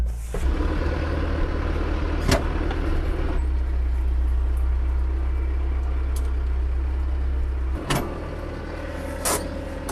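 Tractor loader lifting a bucket of corn up to a deer feeder, a steady loud engine drone with a hydraulic whine shifting partway through and a few sharp clanks of metal.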